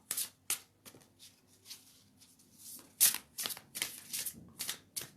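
Tarot cards being shuffled by hand, a run of quick papery riffles and flicks in uneven bursts, close and fairly crisp, with no talking.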